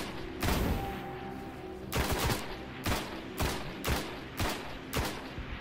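Bursts of weapon fire in the video game Destiny, about six loud broadband volleys spaced roughly a second apart, each a short rattling cluster of shots, with no talking.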